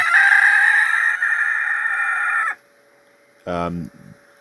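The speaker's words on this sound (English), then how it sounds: "I wanted to show you guys an official Anagadori rooster" An Onagadori rooster, the long-tailed Japanese breed also known as the Phoenix chicken, gives one loud, close, drawn-out crow for about two and a half seconds. A short, harsh call follows after a brief pause.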